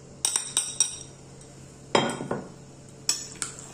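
Utensils clink and scrape against a pan while broccoli and anchovy pasta is tossed, three bursts of sharp metallic taps and a soft squelching stir between them, close and with no talking.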